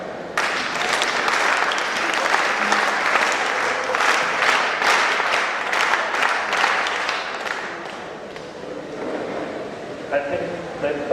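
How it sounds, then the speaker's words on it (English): A school reunion audience breaks into loud sustained clapping, a dense wash of many hands that carries on for about eight seconds before thinning, with a voice speaking near the end. "let's come by now let's have a school clap."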